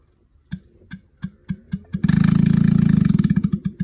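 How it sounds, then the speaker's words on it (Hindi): A Carrier inverter AC outdoor unit clicks a few times, then its compressor starts with a loud, steady, rapidly pulsing mechanical hum. The hum continues to the end, close up and without speech. "तो आप साउंड सुन सकते हैं कि इसने कंप्रेसर को स्टार्ट किया है।"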